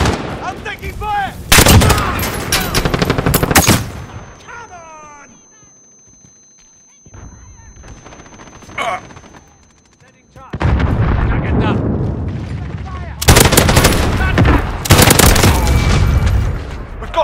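Heavy gunfire and booming blasts from a Call of Duty: Modern Warfare match come in loud bursts separated by quieter gaps, with a player's voice briefly heard.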